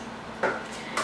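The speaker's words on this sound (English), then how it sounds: "And then you're going to get the fork. And just throw it in there." A metal fork dropped into a bowl gives two quick clinks a half-second apart, close and fairly soft over a quiet kitchen hum.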